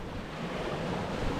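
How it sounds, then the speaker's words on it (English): Ocean waves from a southeast swell and an easterly swell wash around a sailboat at sea, heard as a brief, steady rush of surf mixed with wind noise on the microphone. "that sea state. Southeast swell and an easterly swell."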